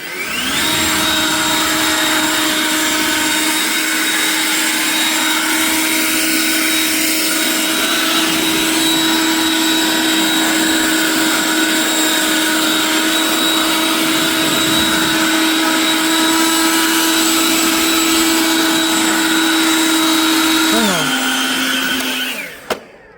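A leaf blower runs steadily at close range, blowing pollen off the hood and roof of a 1989 Chevy OBS truck, holding a constant whining drone before winding down at the end.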